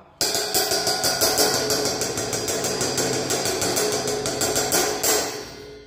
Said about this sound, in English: when I use a clothespin to seal the cymbal. It's much quieter, much more metallic